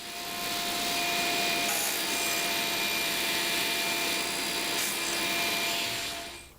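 Saw blade cutting wood for plant stand legs, a steady continuous rasping that runs loud and near for the whole stretch, tapering slightly at the end.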